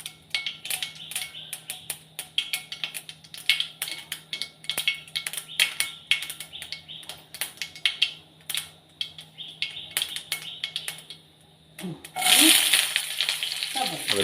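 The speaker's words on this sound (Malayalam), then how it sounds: "അതിലേക്ക് സബോള ഇട്ടു" Onion goes into hot oil in a pan, giving a bright sizzling burst near the end after a long run of sharp crackling, spluttering pops and occasional utensil clinks, close and fairly faint.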